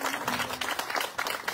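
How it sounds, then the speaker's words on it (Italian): Crowd applause welcoming political leader Cateno De Luca at a campaign event in Ispica, Sicily, a short stretch of moderately faint, scattered clapping from a gathered audience. "Cateno De Luca, a cui facciamo un applauso di benvenuto ancora qui a Ispica."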